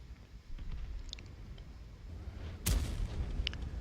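A single heavy cannon blast from a VK 45.02 tank in World of Tanks, a sharp booming crack with a short rumbling tail, preceded by a low engine rumble and a few faint clicks.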